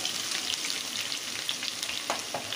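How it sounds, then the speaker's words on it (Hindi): Chopped onion sizzles in hot oil in a pan for Mughlai nargisi kofta, a steady broadband crackle with brief stirring scrapes near the end and no talking. "अब ये है एक छोटी प्याज रसली चॉप, तो इसको हमें इसमें अच्छी तरह से फ्राई कर लेना है।"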